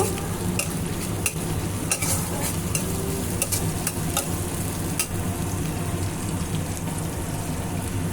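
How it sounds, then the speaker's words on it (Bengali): Chopped onion frying with cumin seeds in a pan, a loud, dense sizzle with steady stirring and frequent sharp crackles, close and continuous with no talking. "এবার পেঁয়াজটা একটু হালকা লাল লাল করে ভেজে নিব"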